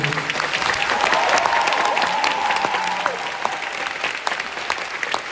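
Audience applause at the curtain call of a stage performance, a dense sustained clapping that swells early then slowly thins, with a few faint voices.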